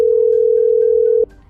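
A steady telephone dial tone hums loudly and continuously for just over a second, then cuts off abruptly, heard during a phone call in the Indian Theft Auto Simulator video game.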